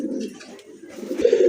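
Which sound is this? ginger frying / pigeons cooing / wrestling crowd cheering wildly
pigeons cooing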